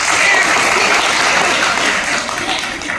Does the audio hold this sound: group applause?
yes